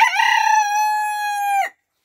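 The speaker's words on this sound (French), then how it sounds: "Mo qui chante à cause des autres coqs de l'autre côté" A rooster crows once, loud and close, a single long drawn-out call that cuts off sharply, answering other roosters across the way on a small poultry farm.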